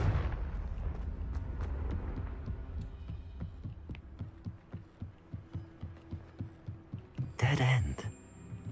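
A Confringo blast spell goes off in a Harry Potter wizarding video game, a short bright burst near the end after a steady throbbing rhythm of low pulses beneath game music.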